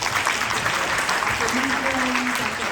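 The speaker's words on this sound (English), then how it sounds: "Let's give a round of applause" Steady applause from an audience at a talk on intergenerational conflicts, a dense, even wash of clapping held at a constant level throughout.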